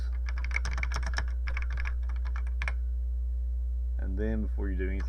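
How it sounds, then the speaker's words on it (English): Keys on an Atari computer keyboard being typed in quick, uneven bursts of clicks, then a pause and a short electronic tone sequence over a constant hum. "you type this"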